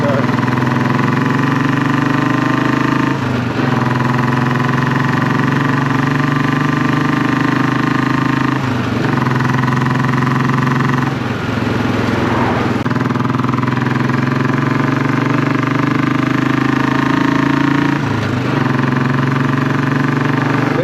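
A Classic 500 motorcycle fitted with a Hitchcock's Goldstar exhaust runs with a loud, deep, steady thumping idle, close up, with brief dips and a short rev swell midway.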